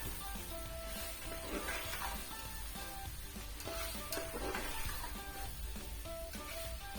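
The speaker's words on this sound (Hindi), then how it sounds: "चम्मच चलाएंगे" A spoon stirring potato keema with capsicum in a hot pan, soft scraping strokes over a continuous faint sizzle, with occasional clinks, heard alone at low volume.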